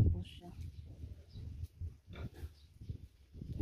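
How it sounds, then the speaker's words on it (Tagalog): A large pet pig grunts repeatedly while being bathed, a series of low, close snorting grunts in uneven bursts with voices talking in the background. "malaki na po yung ating alagang baboy"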